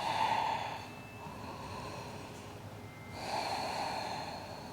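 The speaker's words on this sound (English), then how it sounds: "Breathing in through the nose. Breathing out through the nose." Slow, audible yoga breaths drawn in and pushed out through the nose, two long airy breaths separated by a pause, close and fairly quiet with no talking.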